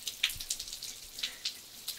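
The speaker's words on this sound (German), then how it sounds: "Es regnet." Rain falls as scattered individual drops ticking on a surface, quiet and irregular with no voices.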